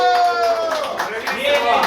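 Audience applause at an award ceremony, a steady wash of clapping mixed with bright tonal voices or music over the top, fairly loud and continuous for a couple of seconds.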